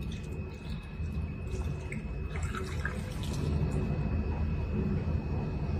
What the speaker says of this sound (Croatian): sad jedino što nam preostaje je ovu kraljicu zaliti s ovom finom vodicom